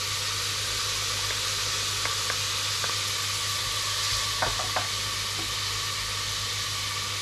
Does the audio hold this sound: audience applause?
no